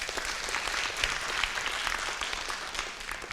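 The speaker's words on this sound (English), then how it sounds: "give yourself a very, very big round of applause" Crowd at a charity fundraising event giving a big round of applause, many hands clapping in a dense, sustained and fairly loud wash that eases slightly toward the end.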